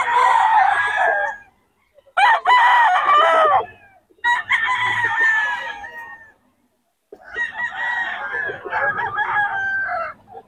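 A 15-month-old lemon sweater gamefowl bullstag crows loudly and close by, giving four long, strident calls separated by short pauses.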